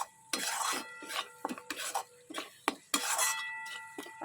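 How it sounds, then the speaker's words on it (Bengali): A spatula scrapes and stirs spice masala with salt, turmeric and Kashmiri chilli in a pan while a Bengali fish rosa curry is being cooked. The scraping strokes come close and fast, with no talk. "এবার মশলাটা বেশ ভালো করে বেশ তিন চার মিনিট কষাবো"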